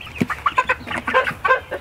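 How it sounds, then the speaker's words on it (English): Chickens and a rooster cluck in agitated bursts at close range, the rooster reacting excitedly, with short repeated calls in an uneven rhythm and no talk. "So I think the rooster has seen them and is now freaking out."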